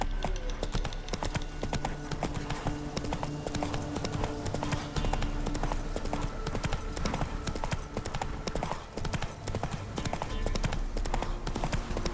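Roach the horse galloping in The Witcher 3: Wild Hunt, a fast continuous clip-clop of hooves at close range over a steady bed of game music and ambience, with a brief whinny.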